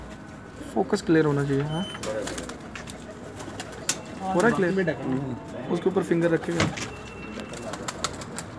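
Large golden breeder pigeons cooing in soft, repeated calls at close range, mixed in with people talking over them throughout.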